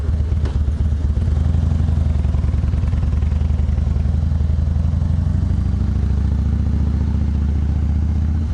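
Motorcycle engine running steadily, a loud, close, low throbbing drone with mechanical clatter that holds constant throughout, no talking.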